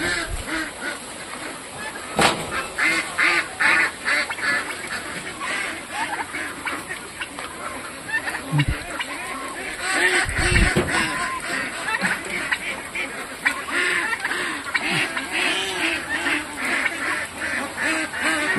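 Ducks quacking in a steady, busy chorus near flooded rice paddies in heavy rain, layered with splashing and dense rainfall noise, with brief louder bursts scattered throughout.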